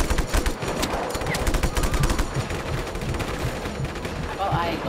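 Sustained automatic gunfire in Just Cause 3, dense rapid bursts running steadily throughout at close range, with explosions and battle noise around it.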